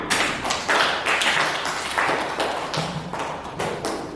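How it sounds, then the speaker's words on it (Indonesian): Classroom applause as students clap for a group's work, a burst of uneven hand claps of moderate loudness that rises and falls in waves and thins out toward the end. "Sekali lagi tepuk tangan"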